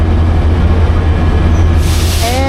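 Amtrak's Coast Starlight backs into a station with a loud, close, steady rumble of rolling railcars, ending in a brief high wheel squeal.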